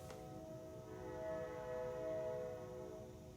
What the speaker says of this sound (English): And it's a train right now. It's very loud.